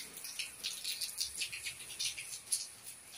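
Heavy rain falls outside a house, a dense, steady patter with rapid rattling drops heard at moderate distance and no talk.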